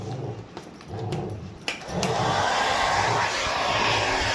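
A hair dryer blows steadily on a wet Rottweiler puppy after its bath, a broad continuous whoosh that starts after a few bumps and clatter and holds loud and close to the end.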